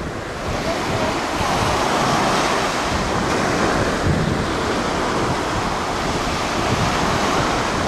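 Sea waves roll and wash steadily onto a Crimean beach, a loud, continuous surf roar mixed with wind buffeting the microphone.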